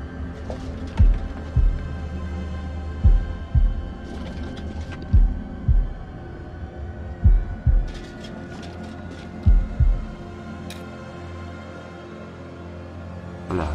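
Slow heartbeat in the House of Ashes video game, paired thumps repeating at a slow, even pace over a low eerie ambient drone, with a few faint higher clicks between beats.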